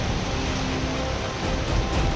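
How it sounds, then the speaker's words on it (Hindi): Heavy rain pours across Punjab amid strong winds, a dense steady hiss of downpour filling the scene at constant loudness with no voices. "पंजाब के अलग अलग हिस्सों में तेज हवाओं के साथ भारी बारिश हो रही है"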